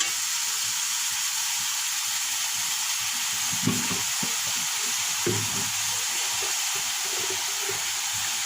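Homemade fried rice sizzling and frying in a pan, a steady bright hiss throughout with occasional soft clinks and stirring scrapes, close and continuous with no talking.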